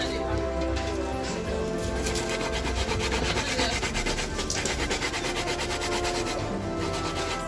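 A coconut is grated on a hand grater in continuous, rhythmic rasping strokes, close and fairly loud, with a few faint bird calls behind.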